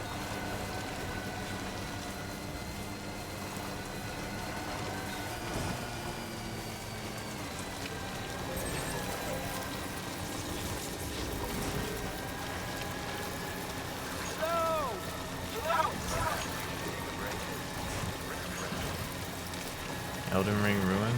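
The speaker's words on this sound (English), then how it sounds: "Maybe it's just raining." Steady rain falls in the video game Death Stranding 2, a constant broadband hiss through the whole clip with a few brief game sounds layered over it.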